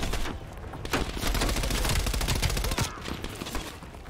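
Rapid, loud gunfire from a shooter video game, Black Ops Cold War campaign, rattles as a dense fusillade of closely spaced shots that continues for the whole stretch, with no talk over it.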